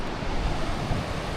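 Ocean waves wash steadily onto Myrtle Beach, a continuous hiss and rumble of surf with wind noise.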